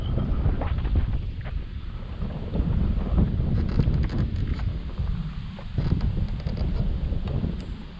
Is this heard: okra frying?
no